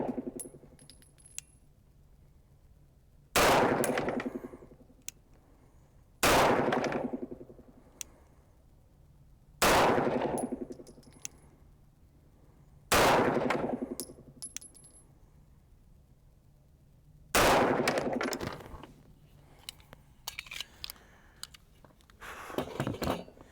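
A 6-inch 1911 pistol fires 9mm 115 grain XTP rounds outdoors, five sharp loud shots spaced several seconds apart, each trailing off in a long echo, with faint clicks and handling noises between and after them.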